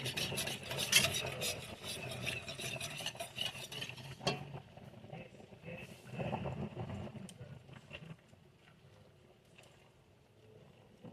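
Pasta for a quick shrimp alfredo being stirred and turned in a pan, close scraping and rubbing with utensil clatter, busy at first, then thinning to sparse softer strokes.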